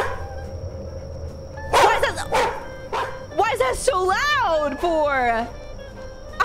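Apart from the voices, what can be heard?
stock audio recording of a dog barking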